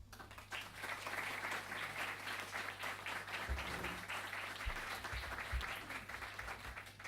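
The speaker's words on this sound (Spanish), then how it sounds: "Le damos un aplauso a ambos." An audience at a criminal policy seminar in Antofagasta applauds the speakers, with steady, moderately distant clapping that holds for several seconds and a few low thumps near the microphone.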